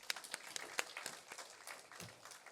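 Scattered applause from a conference audience after a performance, sharp individual claps standing out near the start before thinning into lighter, sparser clapping.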